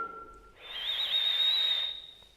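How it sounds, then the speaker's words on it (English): A thin, high whistling tone drawn in through the mouth, held steadily for over a second, with a softer lower whistle just before it. "inhaling through your mouth, making the sound of a whistle"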